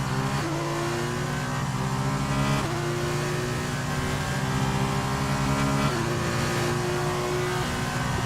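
F2 race car in a sim racing game at Japan, a continuous high engine whine with stepped pitch drops as it downshifts under braking, loud and steady throughout with no voices.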